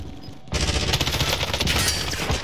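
Rapid automatic gunfire in Call of Duty Warzone breaks out abruptly after a short quiet moment, a dense, loud stream of shots continuing to the end.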